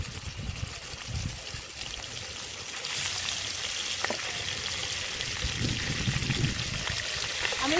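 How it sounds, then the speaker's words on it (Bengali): Chicken pieces fry in oil spiced with a whole-spice tempering, giving a steady close sizzle that grows louder and denser about halfway through as more pieces hit the pan. "আমি এর মধ্যে চিকেনগুলো একটা একটা করে দিয়ে একটু ভেজে নেব।"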